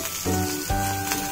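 Chopped capsicum hits hot oil in a pan while a chutney is cooked, giving a short, close sizzle that surges twice in quick succession within about a second, with no voices.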